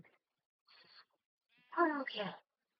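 A sheep bleats in a video game, one short wavering call with a fainter shorter sound just before it, clean and close against a silent background.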